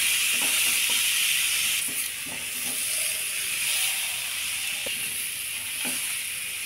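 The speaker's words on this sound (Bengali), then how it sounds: "নারকেল কুড়া একসঙ্গে দিলাম। এখন একটু ভালো করে ভেজে নেব।" Grated coconut frying in a pan for sweet potato halwa, with a steady bright hiss and sizzle throughout, close and loud, broken by faint occasional taps of stirring.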